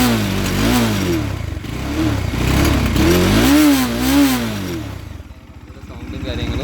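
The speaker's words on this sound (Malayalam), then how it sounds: "വണ്ടി ഒന്ന് സ്റ്റാർട്ട് ചെയ്ത് ഞാൻ സൗണ്ട് കൂടെ ഒന്ന് കേൾപ്പിച്ചു തരാം" A Bajaj Dominar motorcycle engine runs close by, revving hard in repeated rising and falling surges, then easing back toward a lower, steadier idle near the end.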